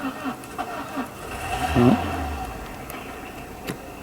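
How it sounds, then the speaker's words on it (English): A neighbour's car starts up outside: a brief engine crank and catch in the distance, then a low idle beneath faint background noise. "Neighbour's car starting up."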